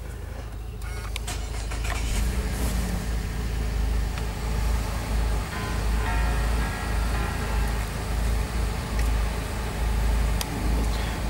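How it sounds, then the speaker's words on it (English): A VF Series 2 car engine turns over and settles into a steady, fairly loud running rumble close by, with no voices. "I'm just gonna hop in the car and start it up for you."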